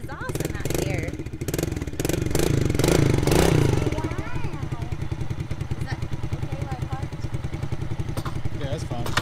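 Small dirt bike engine, a Honda XR80R or Kawasaki KLX110, revving and idling close by at a track, with a burst of throttle early on followed by a steady buzzing idle, under people talking.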